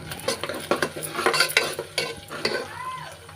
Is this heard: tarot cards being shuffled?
no